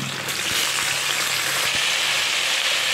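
Potatoes and taro drop into hot oil in a pan, a steady close sizzle of frying with a few soft bumps as the pieces settle.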